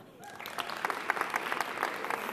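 Audience applause builds after a brief quiet start into steady, moderately loud clapping with a few cheers from the crowd.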